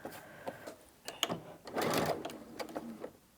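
A sewing machine stitching fabric and back-stitching to lock the seam, short close bursts of whirring stitches with small clicks and pauses between runs.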